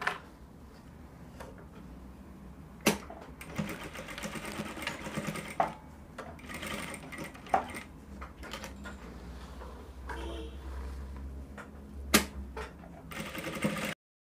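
Sewing machine stitching fabric for a kimono flare dress, a fast steady mechanical chatter with repeated bursts and sharp clicks between runs, close and clear with no talking.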